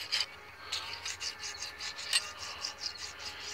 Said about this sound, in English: You'll notice the difference when you're scraping it.